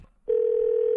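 A telephone dial tone sounds as a call is placed: a short quiet gap, then a loud, steady, unbroken single-pitch tone holding to the end.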